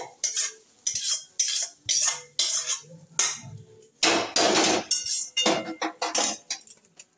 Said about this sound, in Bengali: আমার কষানো হয়ে গেছে ক্যাকড়ার ঝাল, আমি এবার ঢেলে নিচ্ছি